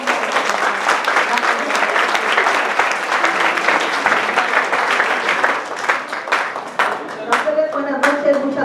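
Conference audience applauding at the close of an anniversary session, sustained dense clapping throughout, near and loud, thinning into a few scattered claps near the end.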